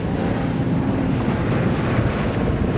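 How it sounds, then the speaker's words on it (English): A P-51 Mustang flying low at an airshow in Oshkosh, Wisconsin gives a loud, steady engine roar that stays constant throughout. "down comes the nose of the Red Commanders with that beautiful P-51 Mustang"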